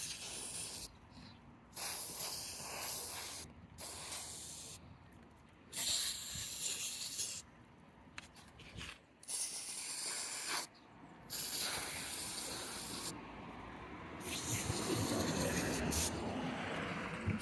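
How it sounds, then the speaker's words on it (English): CitriStrip paint stripper sprayed from a trigger spray bottle, a series of close, quiet hissing spurts separated by short pauses, then a longer spray. "So what I like about this is it pretty much sprays very easily."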